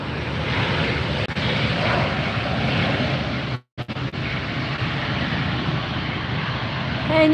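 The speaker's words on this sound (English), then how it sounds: "And you can even hear the reverse thrusters on that guy." Landed airliner's reverse thrust at Los Angeles International Airport, a steady, loud broadband roar that holds throughout with a brief drop partway, up close and alone.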